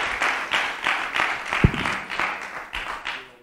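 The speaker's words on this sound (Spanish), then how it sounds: "dele bien ese aplauso al Rey" Steady applause from a church congregation, a dense wash of clapping with rhythmic surges, fading slightly toward the end; no voices stand out.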